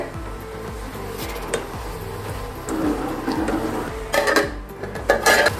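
A lid comes off a cooking pot of simmering ponnanganni keerai (spinach greens) kootu, followed by clattering metal and stirring. Low rhythmic bubbling runs underneath the close, moderately loud clinks, and no one speaks.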